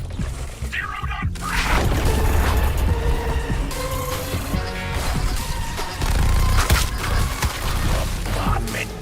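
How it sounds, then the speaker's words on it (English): A bombardment rains down in the Suicide Squad video game, with heavy rumbling booms and crashing impacts rolling almost without pause over a dense, loud background of debris and game noise. "bombardment began. From downtown."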